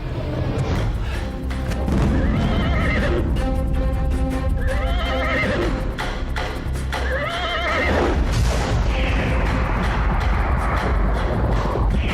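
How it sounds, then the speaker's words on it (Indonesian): A horse neighs and whinnies loudly several times while hooves clip-clop in a galloping rhythm, set in a legend drama chase scene, with booming thuds and a dense, continuous mix throughout. "Cepat kejar kuda itu!"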